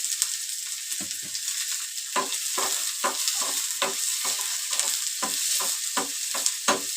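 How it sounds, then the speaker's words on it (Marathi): Chopped onions with curry leaves sizzle steadily in a hot pan over low gas for egg bhurji, with repeated scraping stir strokes of a spatula cutting through the constant frying hiss. "गॅस बारीक करायचा व्यवस्थित भाजून घ्यायचं कांदा"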